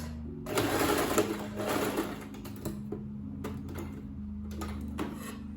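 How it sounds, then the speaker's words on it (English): A sewing machine back stitches a fabric scrunchie, running in loud, close bursts of rapid mechanical whirring, then shorter runs separated by brief pauses. "So I'm going to back stitch. I'm going to back stitch on this point."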